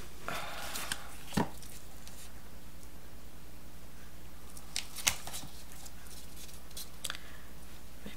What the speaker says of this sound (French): Mes petits ciseaux